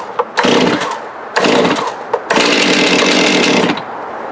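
An almost new Stihl chainsaw is pull-started on full choke with the chain brake on, giving short rough bursts of engine sound, then catching and running steadily and loudly up close.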